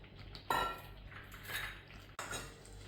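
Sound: mutton being added to a cooking pot

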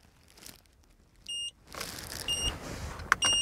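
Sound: racing tachometer buzzer beeping

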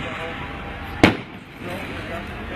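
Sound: fireworks going off at night

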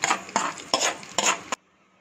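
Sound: adding tempering to pineapple pachadi

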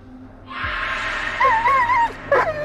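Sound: dog Bullet whimpering in Blair Witch video game

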